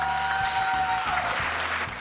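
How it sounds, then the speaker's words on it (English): Applause from a studio audience at a cooking and lifestyle show about Malaysian palm oil, steady and fairly loud over 2 seconds, with background music pulsing beneath the clapping. "Give them a round of applause."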